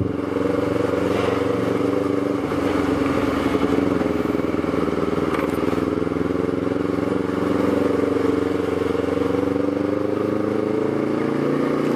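Motorcycle engine running steadily close by for the whole stretch, a continuous buzzing drone with slight rises in revs and no talk over it.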